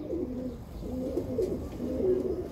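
Blue pigeon cooing near a female, giving soft, low, throaty coos that repeat in a steady rolling rhythm. The cooing is close and moderately loud over a low background hum, with no talking.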